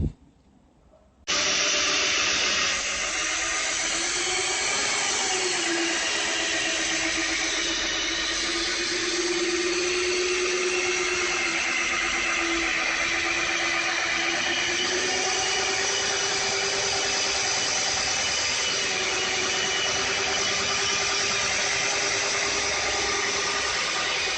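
An inexpensive Harbor Freight drill whirs at constant high speed while mixing tile mortar, a loud, steady drone that starts abruptly after a brief quiet moment and runs unbroken, with slight pitch wavering as the paddle churns.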